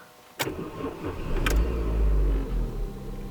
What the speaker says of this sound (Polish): mamy włożoną kartę i uruchamiamy sobie silnik